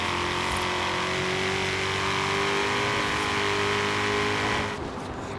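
A Shelby GT350R muscle car engine in Forza Horizon 3 roars loud and steady, with dense harmonic engine tones sustained throughout, rising slightly before easing off near the end.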